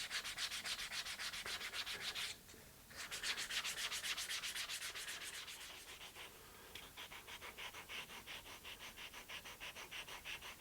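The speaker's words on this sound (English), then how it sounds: "I'm done sanding with the 320 grit sandpaper" Steady rhythmic rubbing of 320 grit sandpaper along the edge of a handmade leather guitar strap, close and continuous with quick back-and-forth strokes, one short pause, and no talking.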